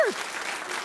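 A studio audience at a daytime talk show applauding, a brief burst of dense clapping with a short vocal whoop at the start.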